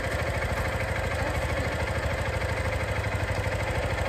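Motorcycle engine running at steady idle up close, an even, continuous mechanical rumble with a rapid clatter, loud and alone with no talk over it.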